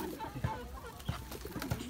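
Pigeons cooing nearby in short, low, throaty coos that repeat about three times at even intervals over a soft background.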